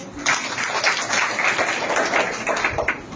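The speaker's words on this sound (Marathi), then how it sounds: "हरणे एज्युकेशन सोसायटीसाठी एकदा खूप टाळ्या झाल्या पाहिजे" An audience applauds in a hall at a Women's Day speech event held for an education society, a dense, steady wash of many hands clapping at once for about three seconds, with no voices breaking through.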